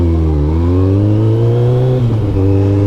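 A Kawasaki ZZR1400 sport-touring motorcycle engine revving, loud and close with a deep steady drone that climbs in pitch, then a brief stutter near the end.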